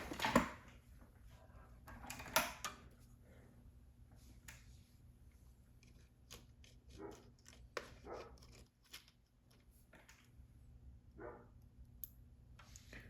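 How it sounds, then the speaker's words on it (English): Dogs bark and whimper faintly in the background of a quiet room, with a few short yelps near the start and soft, scattered noises after. "Dogs seem unhappy about something."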